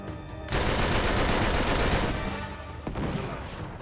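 Rapid automatic gunfire from a firefight in the video game Uncharted 3, a loud, dense burst that starts after a brief lull and keeps rattling continuously, easing slightly near the end before a fresh volley.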